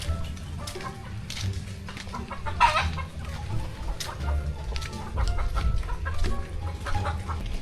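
Farm chickens cluck steadily at a feeding spot, a flock of overlapping short calls at moderate distance over low rumbling background noise, with no talk.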